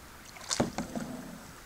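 Kayak paddle strokes on a calm downstream river: two or three soft splashing dips in quick succession, fairly close and quiet against faint outdoor air.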